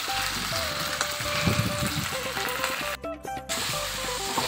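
Meat frying in a pan at home, a close, continuous sizzle with occasional stirring clatter and no voices.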